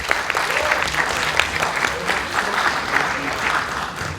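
Audience applause for the startup team Healthy Cakes at a Startup Weekend pitch event in Varna, steady dense clapping sustained throughout at close range, with a little crowd noise mixed in.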